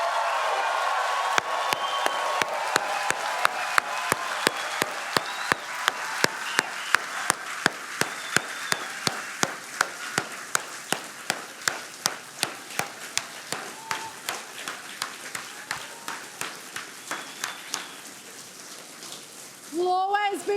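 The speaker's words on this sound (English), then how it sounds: "Let me hear you clap, let me hear you cheer, and let me hear you roar for Charlie and for freedom of speech." A large audience at the CPAC 2025 political conference claps in steady unison, sharp rhythmic beats repeating for nearly twenty seconds over a bed of crowd noise, before a brief burst of voices at the end.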